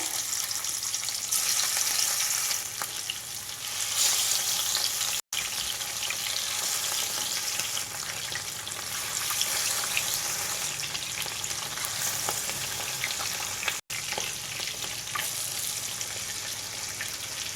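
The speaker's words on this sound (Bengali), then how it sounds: "মাছগুলো ভাজা হতে থাকুক" Spiced rohu fish pieces fry in hot mustard oil in a kadai, a steady loud crackling sizzle that runs on without pause, close up and with no voices.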